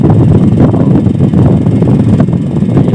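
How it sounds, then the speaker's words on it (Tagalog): Strong wind buffeting a wooden boat out at sea off Northern Samar, with hanging clothes flapping, a loud continuous roaring rush that fills the whole clip with no talking. "Napakalakas ng hangin, no?"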